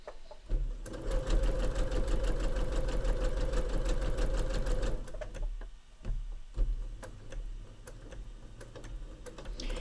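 A sewing machine chain pieces fabric without cutting threads, a steady close whir of rapid stitching for about five seconds, then it slows and stops, leaving a few clicks and handling noises.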